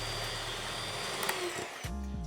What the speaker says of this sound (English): You take your little hand mixer, get in here and go to the high